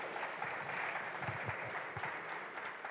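Audience applause for finalists on stage at a regional artists' competition final, sustained clapping from a crowd, steady and fairly loud with no talking.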